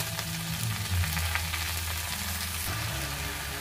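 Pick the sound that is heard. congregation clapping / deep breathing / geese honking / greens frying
greens frying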